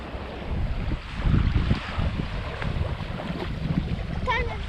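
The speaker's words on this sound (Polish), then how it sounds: "Teraz trochę wiatr zaczął wiać, i fala" Wind buffeting the microphone over the wash of small waves breaking on a Sardinian shore in March, with a few faint higher sounds near the end.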